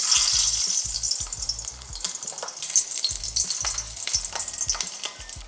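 Garlic frying in hot oil alongside beef for a Trini-style curry, a loud continuous sizzle and crackle up close, punctuated by repeated rhythmic scrapes and knocks of stirring in the pot.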